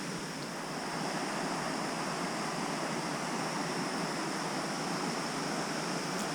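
The River Dart rushes past a tree in a steady, broad hiss of flowing water, constant and fairly close, with no voices.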